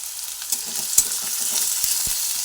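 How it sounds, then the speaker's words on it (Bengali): Potatoes fry in a pan while a spatula stirs them, a continuous close sizzle broken by several sharp scraping knocks and clicks against the pan. "আলু এরপরে ভেজে নিচ্ছি"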